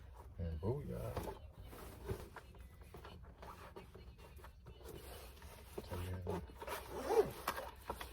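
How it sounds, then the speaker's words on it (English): A zipper being drawn closed on a carrying case for a portable griddle inside a camper van, with a few quick rasping pulls among light handling noises and talking nearby. "Just zip it on up."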